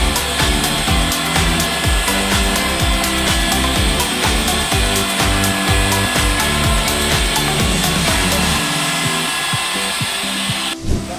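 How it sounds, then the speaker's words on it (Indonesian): A machine polisher works across the roof of a Toyota Kijang Innova during an interior deep-clean detail, giving a loud, steady motor whir that runs continuously with rough buffing texture and no speech. "ini kita poles juga untuk bagian atap mobilnya guys"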